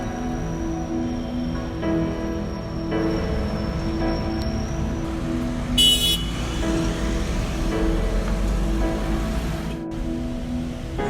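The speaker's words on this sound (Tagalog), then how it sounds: "para marinig ang pagdaan ng mga sasakyan," Steady road traffic rumbles and hisses as vehicles pass at moderate distance, with a brief high whine and a short horn-like toot partway through.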